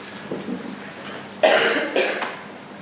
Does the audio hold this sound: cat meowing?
no